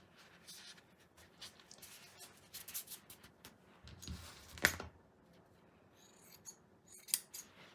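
Scissors snipping through crochet yarn for a gnome's beard, a series of quiet, close crisp cuts and rustles in irregular bursts, with one sharper snip standing out.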